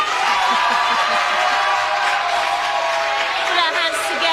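A studio audience at a televised talent show claps and cheers throughout, a dense, loud roar with voices and whoops riding over the clapping.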